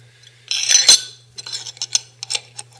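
Small metal bearings clink and rattle as they are handled and set aside in a knifemaking workshop during handle machining: a loud jangling cluster, then a string of short, crisp taps, close and with no voices.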